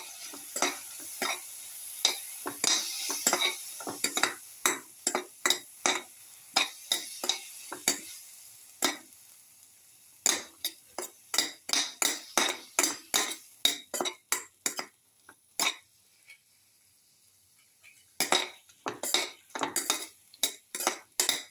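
Tomato pieces and salt stirred in a pan for pepper shrimp vermicelli pasta, a steady run of sharp utensil scrapes and clinks against the pan with a light sizzle underneath, broken by short pauses, with no talking.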